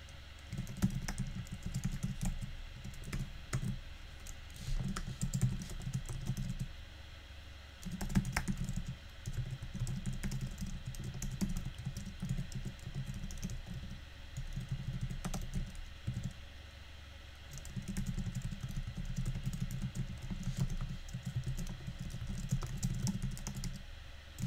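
Steady typing on a computer keyboard, with continuous key clicks in quick bursts and short pauses, close and fairly loud, no talking.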